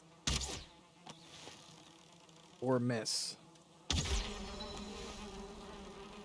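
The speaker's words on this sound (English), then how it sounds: "let's take these bees down" A swarm of angry bees in the Valheim video game buzzes in loud rising bursts, with a brief spoken remark mixed in.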